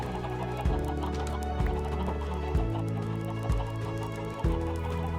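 Several chickens cluck in short overlapping bursts nearby, with low periodic thumps and a droning background hum.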